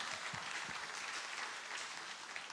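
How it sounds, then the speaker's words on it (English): Audience applause at a live comedy show, a steady dense wash of clapping from a crowd that holds at an even level throughout without talk over it. "Give Victor one more big round of applause"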